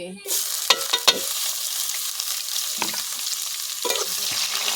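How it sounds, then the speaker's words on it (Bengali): Steady hiss of chopped onions frying in hot oil with cumin, dried chillies and bay leaves, with a few sharp scraping stirs of a spatula against the pan. "পেঁয়াজটা ভাজা ভাজা হবে।"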